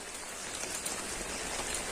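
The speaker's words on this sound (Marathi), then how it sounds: "बाहेर पाऊस चाललेला आहे" Steady rain patters and hisses continuously outside at a farm in the Satpura forest, with scattered drops tapping a surface.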